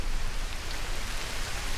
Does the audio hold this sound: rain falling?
yes